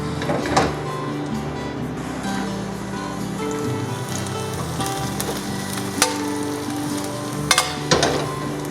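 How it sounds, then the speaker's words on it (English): Six cloves of minced garlic sauté in one to two tablespoons of oil in a hot wok for Filipino pancit canton, giving a steady, close sizzle with a few sharp pops and scrapes, with no talking. "And then we're gonna start by sauteing the garlic."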